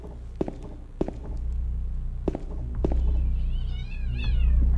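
Kittens meowing in the dark survival horror game Silent Hill 2, several rising high mews near the end over a steady low ambient hum, with a few soft thuds and footsteps earlier.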